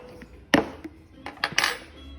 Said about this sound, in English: I'm gonna open the lid and see what's happening in there